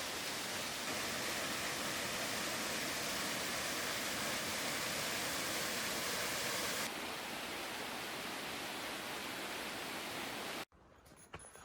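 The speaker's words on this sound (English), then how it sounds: "We then made a quick stop to admire the waterfall just along the trail." A waterfall along a forest hiking trail in the Dolly Sods Wilderness gives a steady, loud broadband rush of falling water that drops slightly in tone partway through and cuts off abruptly near the end.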